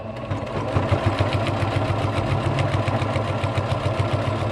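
A sewing machine sews down rolled fabric with a steady, close, rhythmic mechanical whir that runs continuously without pause.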